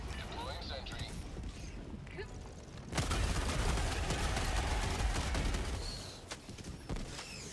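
Video game machine gun fire breaks out as a loud, dense rattling burst after a quieter stretch of scattered mechanical clatter, continuing for several seconds before tapering off with a few trailing shots.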